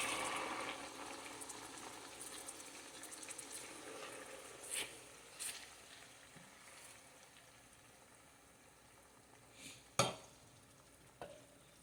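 Tomatoes cooking in a pan for lunch give a quiet, steady low sizzle and fry, with a few soft stirring scrapes and utensil clinks standing out now and then; no voices.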